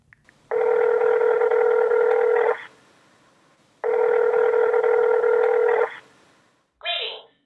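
A call from a mobile phone rings out: two long electronic ring tones separated by a pause, clear and close, followed by a brief burst of sound at the end.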